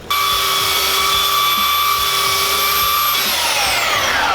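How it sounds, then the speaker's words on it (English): A power tool whines at a steady high pitch while sanding, loud and close, then winds down near the end, with no voices over it. "when sanding with power tools, it's all in the hips"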